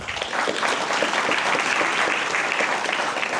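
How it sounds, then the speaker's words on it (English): Sustained applause from a sizable audience at a guide dog graduation ceremony, a dense even patter of many hands clapping at a steady level. "thank you very much for the round of applause for our donor community"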